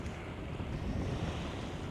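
Ocean waves wash in at a beach in Chatan, Okinawa, a dense, steady roar of surf mixed with gusty wind buffeting the microphone, with no voices.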